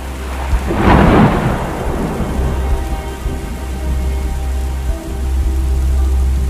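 Heavy rain pours steadily through a night storm while a loud thunderclap rolls in near the start, then fades into the constant rush of rainfall.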